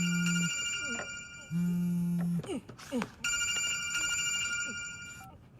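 A telephone bell rings in repeated bursts in a film scene, each ring a bright sustained tone separated by short gaps, with voices speaking in between.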